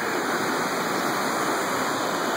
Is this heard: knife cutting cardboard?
no